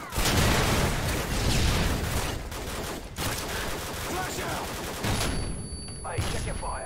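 Sustained gunfire in Call of Duty Modern Warfare 2, a dense loud fusillade of rapid shots and bursts running throughout with brief gaps, while voices talk over the battle.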